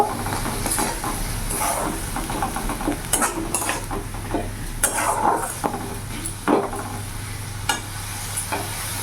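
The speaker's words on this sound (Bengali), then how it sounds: "ভালো করে মিশিয়ে নেব।" A spoon stirs and mixes curry masala with coriander powder in a pan for an Bengali potato and egg curry, giving steady scraping and clinking strokes over a soft sizzle, close and alone without talk.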